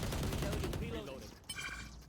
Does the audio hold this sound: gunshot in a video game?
yes